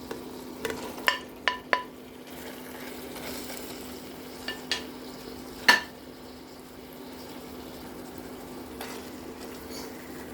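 Fried chicken goes back into a pot of tomato paste for chicken kabsa. A steady low sizzle runs throughout, broken by a few sharp clinks of a utensil against the pot.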